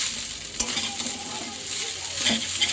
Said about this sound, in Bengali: ম্যাগি মশলা দিয়ে ভাতগুলো ভাজবো